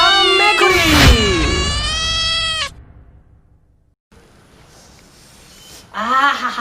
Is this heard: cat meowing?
yes